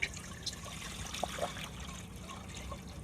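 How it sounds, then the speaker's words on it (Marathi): Water trickles and pours softly into a cooking pot for an egg biryani made outdoors over a wood fire in the hills, a faint, steady liquid stream with no voices. "याच्यात आपल्याला पाणी ऍड करायचंय."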